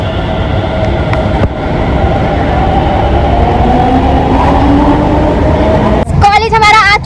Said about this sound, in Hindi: और ये देखो हमारी मेट्रो जा रही है।